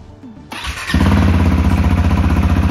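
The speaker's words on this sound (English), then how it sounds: "the first step in this procedure is to actually fire the bike up and get it up to operating temperature." A KTM 390 Adventure motorcycle is started close by: a brief starter whine, then the single-cylinder engine catches and settles into a loud, steady, throbbing idle.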